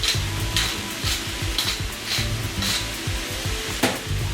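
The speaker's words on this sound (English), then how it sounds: "I'm just going to give this a stir." A utensil stirs stir-fried vegetables and leftover chicken in a sizzling pan, giving a steady fry with rhythmic scraping strokes about every half second and a sharper clack near the end.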